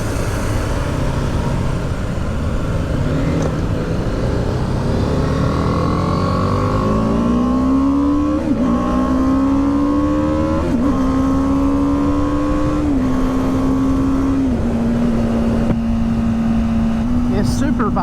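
A BMW G310R motorcycle with a small single-cylinder engine accelerates to high revs while riding, its loud droning note climbing through several gear changes and then holding steady at speed, with wind noise throughout.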